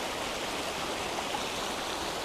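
A river flows steadily past its bank on a rainy day, the murky water giving a constant broadband rushing hiss at even level throughout, with no voices.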